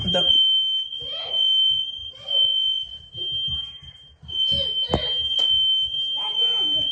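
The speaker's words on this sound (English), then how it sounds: "the freaking smoke detector was going off" A shrill, steady high-pitched kitchen smoke alarm beep sounds continuously throughout, set off while baking s'mores cookies, with a person talking and moving about underneath it.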